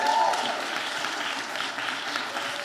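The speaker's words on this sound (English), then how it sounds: "let's give a round of applause to Chanel" Audience at a Brooklyn community panel on a doula certification bill breaks into applause, a continuous wash of many clapping hands that holds steady throughout.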